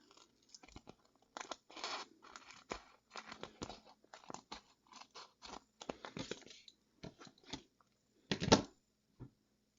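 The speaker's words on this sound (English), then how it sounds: "I'm actually going to cut around all 4 edges." Scissors cut around all four edges of a shaker card piece, a steady series of close, crisp snips and crunching paper cuts with brief gaps, quiet overall with one louder cut near the end.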